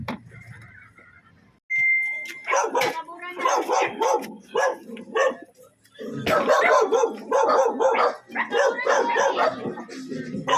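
A very thin dog trapped beneath a motorcycle sidecar barks and yelps in close, loud, repeated bursts, with people talking nearby through much of the scene.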